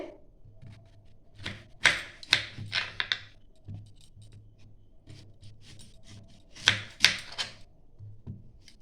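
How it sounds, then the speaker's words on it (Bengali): Green mangoes with hard, firm stones are cut with a knife for homemade green chilli mango pickle, giving close, crisp chopping and scraping strokes in short uneven bursts with pauses between them. "এবার আমগুলো কেটে নেব আমগুলোর একটু শক্ত আঁটি হয়ে গেছে"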